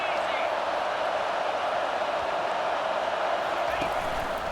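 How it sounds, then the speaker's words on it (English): Dense, steady roar of a stadium crowd in a college football video game, filling the whole span at constant loudness with no clear pauses. "This crowd trying to make life miserable for this offense."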